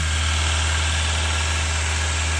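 A Nissan S-Cargo with a carbureted 1.5 liter four-cylinder idles steadily up close, giving a loud, even drone and a strong low hum that keeps going without change.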